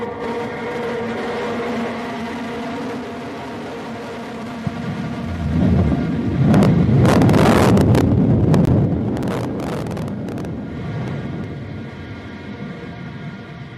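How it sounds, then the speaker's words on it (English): Roaring rush of the New Shepard rocket booster engine relighting during landing at Launch Site One, Texas, swelling from a low hum into a loud, broad, crackling roar that holds for several seconds, then slowly fades. "there's engine relight"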